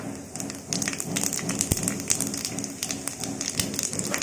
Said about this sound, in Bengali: এবার আমরা এখানে ফোড়নে দিচ্ছি শুকনো লঙ্কা